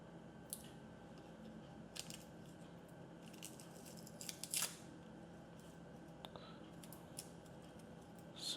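Garlic cloves are peeled by hand at a kitchen counter, making faint dry papery crackles and small snapping clicks scattered across a quiet background with no talking.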